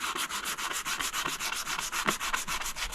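A diamond willow walking stick is hand-sanded with 100 grit sandpaper, giving quick rhythmic back-and-forth scratchy rubbing strokes, close and steady, about six or seven per second.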